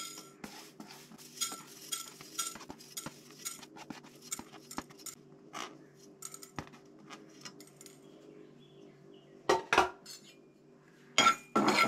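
Fenugreek seeds being roasted and stirred in a pan, with a spoon scraping and clinking steadily against the metal, punctuated by a few sharper knocks near the end.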